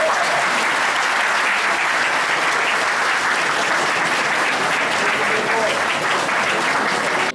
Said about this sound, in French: applaudir pour vos officiers